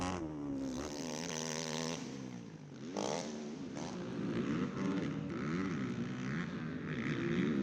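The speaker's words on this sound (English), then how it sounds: "Oh, you hear Ford just dumping the clutch." An ATV engine at a motocross national championship race revs hard and climbs in pitch as the rider dumps the clutch, dips briefly, then roars back up and holds a steady, loud drone.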